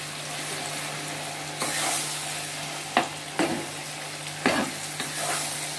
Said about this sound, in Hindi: उस दाल को मिला दें और अच्छे से इसको भूनें।